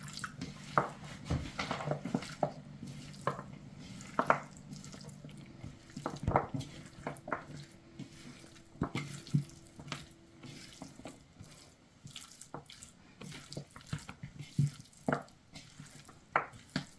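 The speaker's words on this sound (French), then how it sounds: "Je vais ajouter encore un petit d'eau." Water is poured into a pot while cooking tshomba tsha kabiola, with splashing, drips and clinks of stirring over a low simmer, all fairly quiet and with no talking.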